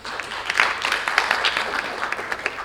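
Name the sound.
audience applause for Bang Aris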